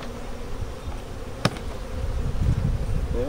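A dense, steady buzzing of many honey bees from a weak nucleus colony hums close by, with one sharp knock partway through.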